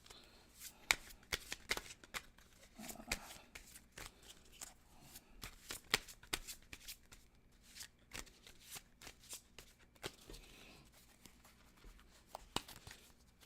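Tarot cards shuffled by hand, close by, in a steady stream of soft riffling flutters and sharp papery snaps that repeat in quick bursts, with no talking.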